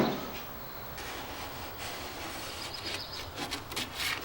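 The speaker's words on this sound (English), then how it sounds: "the satisfying process of removing all the layers of paint" Multiple layers of paint are scraped off an old painted vintage wooden dresser, giving a continuous, fairly loud abrasive rasping. The scrapes grow more distinct and rhythmic toward the end, with no talking.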